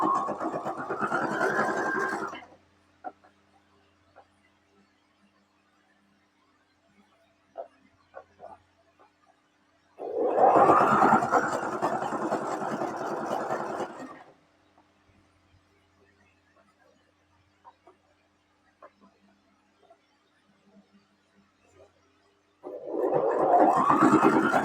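A sewing machine stitches fabric in three separate runs of a few seconds each, a close whirring hum broken by quiet pauses with faint handling clicks.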